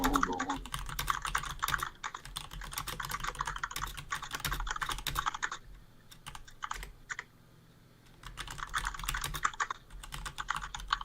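Bursts of rapid keyboard typing, close and clicky, come in two long runs separated by a quieter pause, with a low background hum underneath.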